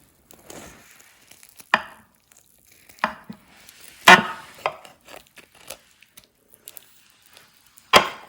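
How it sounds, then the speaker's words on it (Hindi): A knife cuts through baked cheesy chicken sliders with melted cheese, making a handful of sharp, separate chops and board knocks spaced irregularly over quiet gaps, with softer scraping between them. "तो चलें अब इसकी कटिंग करते हैं।"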